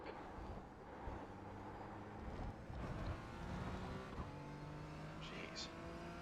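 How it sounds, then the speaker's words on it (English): Race car engines in a racing video game drone continuously while a faster class car approaches, with engine tones shifting and rising as it closes in, steady and fairly loud throughout. "There's a faster class car approaching."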